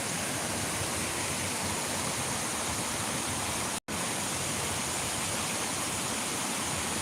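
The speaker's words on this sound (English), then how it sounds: "Cool little waterfall, right?" A small waterfall spills into a dirty little stream outdoors, a steady, dense rush of falling water that stays loud and unbroken apart from a split-second dropout midway.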